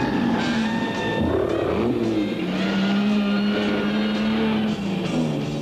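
A car engine runs steadily, a close, sustained droning hum with a slight rise and fall in pitch, over a soundtrack for an Esso Superlube Plus engine oil advert.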